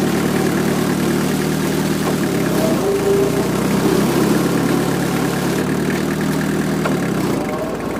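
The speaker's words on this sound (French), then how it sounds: "le moteur il tourne un peu plus vite" Holder AM2 prototype engine idling at low revs, a loud steady close-up rumble with a constant mechanical hum throughout, easing slightly at the end.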